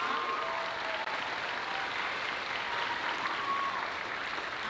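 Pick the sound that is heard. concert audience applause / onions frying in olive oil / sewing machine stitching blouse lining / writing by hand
concert audience applause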